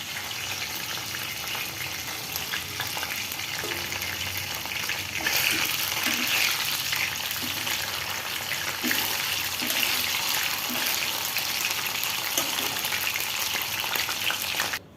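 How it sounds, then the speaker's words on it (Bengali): Roti flatbread frying in a pan, a steady hissing sizzle throughout with soft clicks and taps from turning or stirring, growing slightly louder partway through, close and continuous with no talk. "আর এই যে রুটি ভাজতেছি"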